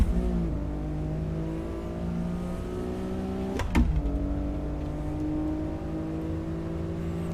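Race car engine in a driving simulator, a steady high revving drone with a sharp gear change or blip midway, then climbing again, loud and close with no talk.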